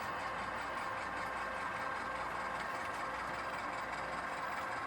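A BN Alco C-415 diesel locomotive rumbles steadily in a rail yard, a continuous mid-pitched engine drone held at an even level for several seconds, with no speech.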